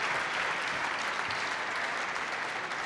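A squash crowd at the Tournament of Champions applauds an attacking rally by Alan Clyne against Nick Matthew, with dense, steady clapping that fills the whole moment without let-up.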